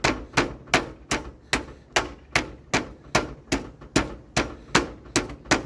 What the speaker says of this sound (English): we're gonna stick them in a bag and we're gonna pound them out and get them flattened out here